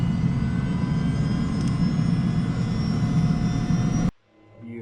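An AS350 B2 helicopter's turbine engine spools up loudly and close, a steady whining roar that holds for several seconds before cutting off abruptly.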